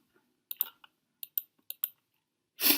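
Computer mouse clicks come while working in Photoshop: about seven crisp, close single clicks spaced irregularly, followed by a short, louder rustling burst at the end.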